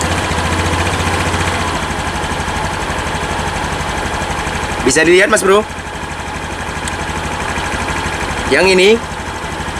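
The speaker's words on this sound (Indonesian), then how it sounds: "Lalu saya nyalakan dulu mesin." A 2020 Honda Beat scooter engine, noted as sluggish and underpowered, idles with a steady low mechanical drone and rhythmic ticking throughout, while someone speaks nearby in two short bursts over it.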